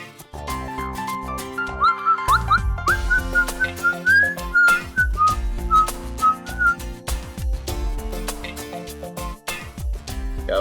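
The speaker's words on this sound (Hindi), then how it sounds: "आजकल बड़ी सीटियां बज रही है" Someone whistles a short, bright melodic phrase over busy music with strong beats and percussion.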